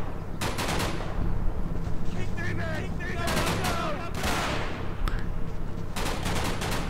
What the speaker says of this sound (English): I've still got this tank shooting at that building